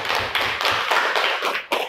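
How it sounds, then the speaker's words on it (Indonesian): A short burst of clapping from a school class, with a steady patter of hand claps for about two seconds and a few louder claps near the end. "tepuk tangan buat kelompok 2"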